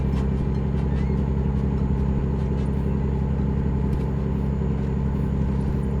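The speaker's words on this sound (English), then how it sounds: "Oh, my truck's making the noise again." A truck engine in a Payday video game drones at a steady, loud, unbroken idle hum, with no talk over it.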